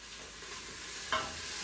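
Garlic and onions fry in a pan for pasta fagioli, a soft steady sizzle with a brief stir or scrape near the end, close and moderately quiet.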